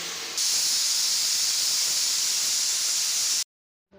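A pressure cooker on the stove with khichuri cooking inside lets out a loud, continuous jet of steam hiss for about three seconds, then cuts off abruptly into silence.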